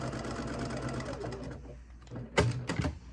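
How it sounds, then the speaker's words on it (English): A sewing machine with a quarter-inch presser foot stitches a quilt seam in red thread, a fast mechanical whirring run that slows and stops, followed by a few close clicks and handling knocks. "and just sew. And I'm going to use a red thread so that you can easily see the color as it goes through."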